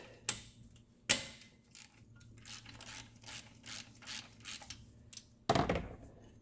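A 12 mm socket ratchet works the belt tensioner on a 2016 Subaru WRX STI, giving a series of close, quiet clicking strokes with a few sharper metallic knocks in between.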